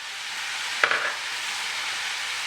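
Spoon stirring ground roasted cumin, amchar masala and curry powder into a pot of frying bitter melon, a steady sizzle with one short scraping stir near the start, no talk.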